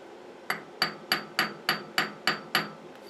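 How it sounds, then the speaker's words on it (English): Seven or eight sharp, evenly spaced taps of a piece of aluminum stock against a tool being seated on a South Bend lathe, each a crisp close metallic knock with a short decay and no talking. "I'm using a piece of that aluminum stock that I made to tap this thing in there and get it setting dead on."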